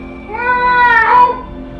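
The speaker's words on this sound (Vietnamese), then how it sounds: "Ui, mà mèo thật rồi anh em ạ." A single drawn-out cat meow inside an abandoned house, clear and fairly close, rising and falling over about a second against a quiet, empty background.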